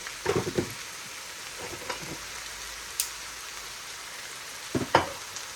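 Butter and seasonings fry in a pan with a steady low sizzle, broken by a few louder clicks and scrapes near the start and again near the end.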